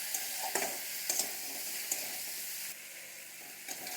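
Koi fish curry with potato and radish sizzles in a pan, close and steady, with a few scraping stirs of a spatula before the frying settles to a quieter hiss.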